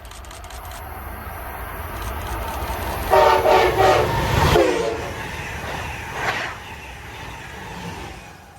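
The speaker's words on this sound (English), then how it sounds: "Right behind the Northeast Regional is a northbound Amtrak Acela Express on its way from Washington, D.C. to Boston." A northbound Amtrak Acela Express high-speed passenger train passes in Central New Jersey, sounding its horn in a loud blast midway, with a rushing roar and rail clatter that build and then fade.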